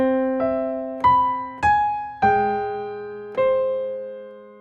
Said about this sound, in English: if we were to hear this melody against these chords, and I'll just play the bass notes in root position, it would sound like this